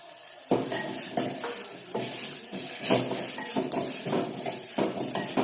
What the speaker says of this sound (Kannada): ಬೆಳ್ಳುಳ್ಳಿ ಸ್ವಲ್ಪ ಫ್ರೈ ಆದಮೇಲೆ ಜೀರಿಗೆ ಪೌಡರ್ ಮತ್ತು ಮೆಣಸಿನ ಪುಡಿನ ಹಾಕ್ಕೊಳ್ಳಿ